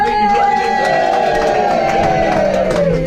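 Comedy club crowd cheering and clapping to welcome a comedian onstage, loud dense noise with a high sustained whoop or tone running through, steady throughout.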